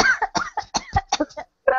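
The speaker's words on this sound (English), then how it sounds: "I need to cough" A person coughs close to the microphone in a quick burst of about eight sharp, harsh coughs, followed by a short pause and one more cough.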